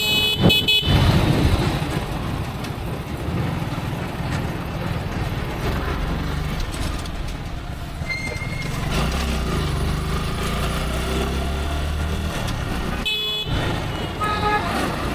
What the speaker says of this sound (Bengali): চলুন আমরা কিছুক্ষণ বাইকের আওয়াজটা শুনে আসি, আমাদের বাইকের সাউন্ড কেমন দিচ্ছে